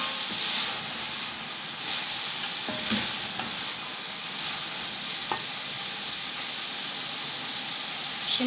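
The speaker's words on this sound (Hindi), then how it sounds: "गार्निश के आलू, शिमला मिर्च, बंद गोभी बहुत अच्छी तरह फ्राई हो चुकी हैं।" Potatoes, capsicum and cabbage fry with mutton mince in a pan, a steady close sizzle and hiss running throughout with occasional stirring clicks and scrapes, no voices.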